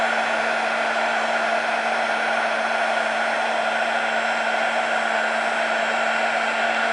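A heat tool blows hot air onto glue in a steady, loud, unbroken whoosh with a constant motor hum, heard alone with no talking.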